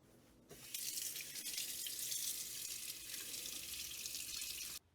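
Tap water runs steadily into a darkroom sink, rinsing a photographic print. After a brief quiet start the close, hissing flow pours without a break, then cuts off at the end.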